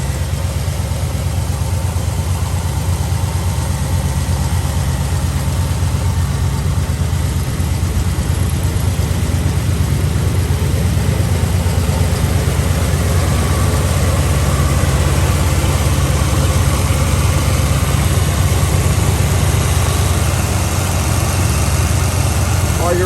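A 1967 Chevrolet Impala's engine idles steadily and close by, a continuous low rumble that holds even throughout with no revving.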